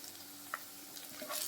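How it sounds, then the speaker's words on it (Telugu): Onions fry toward golden brown in a pan for an amaranth leaves and liver fry, a faint, close sizzle with one sharp tap of a stirring utensil and light scraping. "ఈ గోల్డెన్ బ్రౌన్ వచ్చేంత వరకు బాగా ఫ్రై చేసుకోవాలండి ఉల్లిపాయలు"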